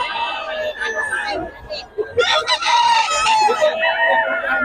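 Chickens and roosters at the busy Bocaue market cluck and crow close by, with repeated calls over crowd noise and talking voices.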